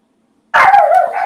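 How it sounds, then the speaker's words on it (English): Small dogs give one sudden, loud, close yappy bark that cuts through silence and trails off slightly. "Sorry, my dogs are barking right now."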